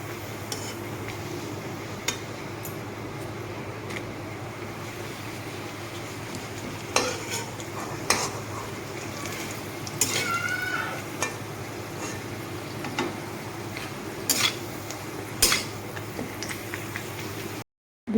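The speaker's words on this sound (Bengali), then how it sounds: "তো পাঁপড়গুলো আমি সবগুলো এইভাবে ভেজে নেব।" Papad frying in hot oil in a pan for a Bengali quash papad ghonto dish, with soft steady sizzling and occasional scraping stirs of a utensil against the pan, close and moderately quiet, no talking.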